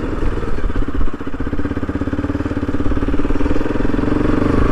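A motorbike engine runs steadily and close by with a throbbing mid-pitched note while it is ridden into the GNRC medical college grounds. The rumble is continuous, with a brief dip near the second mark, and no one talks.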